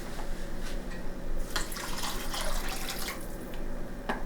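Two cups of water poured from a tap into a cooking pot for a keto banana custard, a steady hissing splash running throughout with brief drips and clanks, close and fairly loud, no talking.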